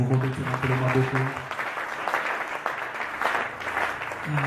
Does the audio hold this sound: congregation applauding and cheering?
yes